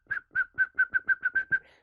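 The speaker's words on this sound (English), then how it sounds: "Do you believe that people used whistle to communicate to each other?" A person whistles a quick run of about nine short, evenly spaced notes at a steady pitch, like whistled signaling for communication. The whistle is close, clear and alone.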